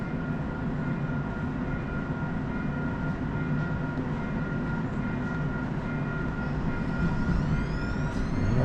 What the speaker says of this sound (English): Especially in service and trains come and go.